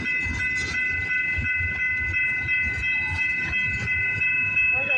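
A train on the rail line at Bronte rolling along steadily and slowing, with continuous low rumble, rhythmic wheel clatter and steady high tonal squeal or hiss throughout, close and fairly loud.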